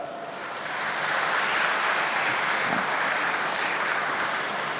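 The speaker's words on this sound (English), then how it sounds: "Give them a clap." Congregation at a Sunday church service clapping to welcome newly elected pastorate committee members, a steady wash of applause from a large crowd that swells after the first second and holds evenly, no talk over it.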